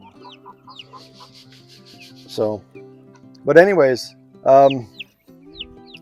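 Chickens on a small farm during midday chores, with short clucking calls and a few louder, drawn-out squawks rising over a steady low background hum, while a person speaks briefly.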